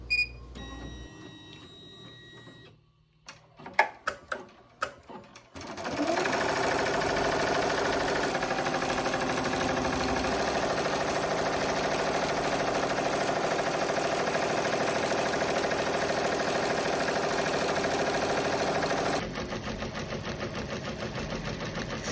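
An embroidery machine stitching a design onto a stretched t-shirt, starting after a few clicks and button presses, then running as a steady, fast mechanical whir and needle chatter that holds level for about fifteen seconds before slightly changing tone.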